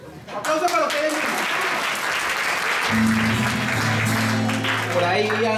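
Crowd at a charismatic Christian music event applauds in a dense, steady wash of clapping, joined partway through by sustained musical tones underneath.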